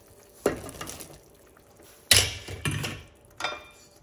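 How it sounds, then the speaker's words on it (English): Beans tipped into a pot of sausage and kale soup land in a few separate clattering bursts, each a sharp splash-and-scrape against the pot followed by a brief settling rattle, close and fairly loud with quiet gaps between. "Now I can add the beans"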